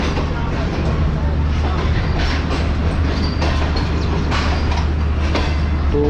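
The Tezgam passenger train pulls out of Lahore Junction: a loud, steady rumble of rolling rail cars with a clickety-clack rhythm and faint wheel squeal, close by and continuous, with some voices in the background.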